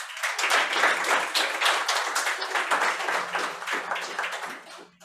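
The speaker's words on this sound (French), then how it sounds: "Applaudissez-le." Audience in a French-language science talk event in Sherbrooke claps for a presenter, a steady, dense burst of applause from a room of people lasting several seconds before tapering off at the end.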